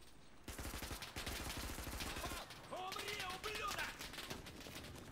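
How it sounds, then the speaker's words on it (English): Rapid SMG gunfire in the World War II shooter Enlisted: dense, loud automatic bursts firing continuously, with a brief pause partway through before more sustained shooting, over game sound and a voice speaking. "Trying to use an SMG at this range."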